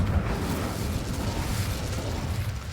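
Incendio fire spell cast in Hogwarts Legacy, a loud, rumbling roar of flame with low crackling bursts that holds steady throughout, with no talking over it.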